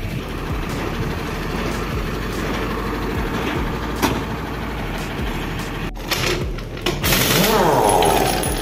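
Tata 5525 truck diesel engine running with a steady low rumble and clattering idle, close by, a louder surge near the end as it revs.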